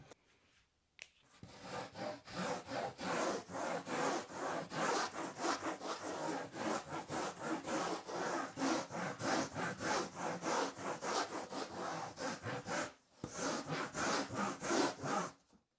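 A hand tool scrapes and shaves steadily across a surfboard bottom being hollowed into a double concave, dense rapid rasping strokes running continuously for about twelve seconds with a brief pause, close and loud with no talk.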